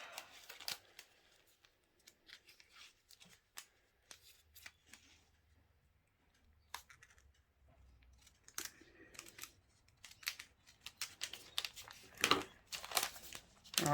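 Scissors trim paper for a multi-photo scrapbook page, giving sparse quiet snips and papery rustles that grow busier and louder toward the end, close by with no talking.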